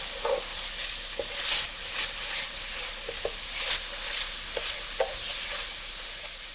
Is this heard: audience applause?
no